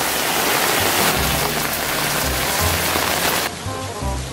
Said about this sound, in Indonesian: Hujan begini.